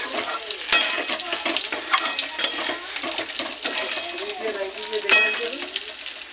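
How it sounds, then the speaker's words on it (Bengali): Chicken with chopped tomato, cumin, coriander and chilli powder is stir-fried in a pan: a close, steady sizzle with repeated scraping and clinking stirs, plus a few sharp spatula knocks. "টমেটো কুচি দিয়ে দিচ্ছি জিরে আর ধনের গুঁড়ো, দেব লঙ্কার গুঁড়ো, দিয়ে এবার একটু ভালো করে কষিয়ে নেব।"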